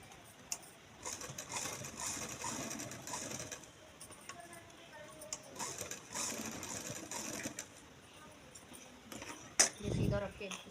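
A sewing machine stitches fabric for baby shorts in a boutique, a faint intermittent whirring run of stitches broken by pauses, with someone speaking between bursts and a louder thump near the end.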